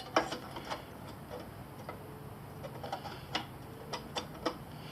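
A flange tool worked on a car body panel during rust repair, producing a series of sharp, separate metallic clicks and snaps at irregular intervals over a quiet background, close up and without talk.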